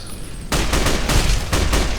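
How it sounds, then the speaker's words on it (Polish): Bursts of gunfire from the video game Fallout: New Vegas, in the Vault 34 armory: a loud rapid volley begins at about half a second, with repeated shots pulsing through the rest of the short stretch. "co to za strzały?"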